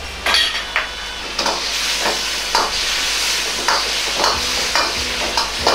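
A ladle pushes and stirs thickened mapo eggplant sauce in a hot pan, giving a steady sizzling hiss broken by repeated soft scraping strokes.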